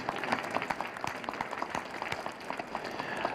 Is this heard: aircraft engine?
no